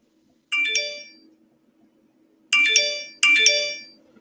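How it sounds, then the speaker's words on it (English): A phone ringtone chimes three times, a bright melodic electronic tone with one burst, a pause, then two close repeats, loud and clear over a quiet background. "My phone's going nuts."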